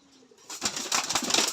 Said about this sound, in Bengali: ভাই কবুতরটি ছাড়তেছে